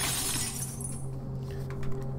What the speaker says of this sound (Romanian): a spart geamul